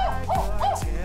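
A small puppy gives a few high, yipping barks in quick succession, close to the microphone and fairly loud.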